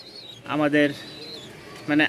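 Pigeons kept by a breeder give short, low cooing calls in two bursts, close and fairly loud, with a voice talking alongside.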